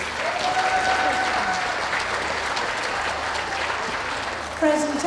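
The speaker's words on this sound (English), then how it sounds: "Round of applause for those leaving the ring," An audience at a hound group dog show claps steadily and evenly for several seconds, with a voice speaking over the applause.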